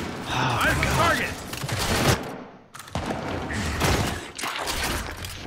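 Rapid video game gunfire crackles in dense bursts with short pauses, loud and close, layered over a busy in-game mix, with a voice talking over it.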